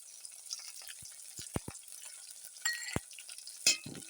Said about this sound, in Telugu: పచ్చిమిరకాయలు వేసుకుంటున్నాం.